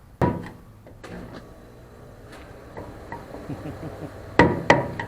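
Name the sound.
hammer tapping fuel pump lock ring on a Mustang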